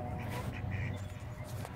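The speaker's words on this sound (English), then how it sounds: "Are you seeing this duck?" A duck quacks a few times nearby, short nasal calls spread over a low steady background rumble.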